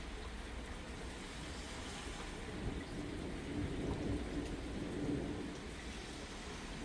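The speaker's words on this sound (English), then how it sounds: "Still hearing thunder," Thunderstorm in Valley Stream, NY: steady rain hiss with a low, distant rumble of thunder swelling in the middle and fading, no talk.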